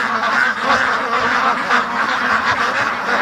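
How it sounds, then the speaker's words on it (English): Free-range ducks quack at night in a noisy, overlapping chorus, several birds calling close by in rapid bursts with no break. "The ducks will be going crazy all night."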